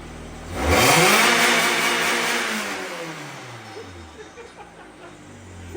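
A Mazda Miata engine in an exo car built from a wrecked Miata surges through one loud, close rev. The roar swells quickly, holds, then drops gradually back toward a lower idle.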